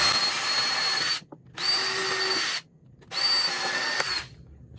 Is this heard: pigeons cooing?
no